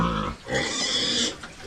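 A pregnant sow on a farm grunts and snorts loudly and close by, in a couple of short rough bursts with no talking.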